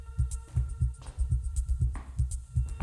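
A pounding heartbeat sound effect in a tense, haunted-house scene, with steady double thumps repeating at a quick pulse, loud and close, over a faint low hum.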